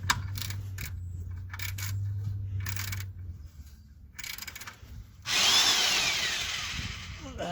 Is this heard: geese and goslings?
no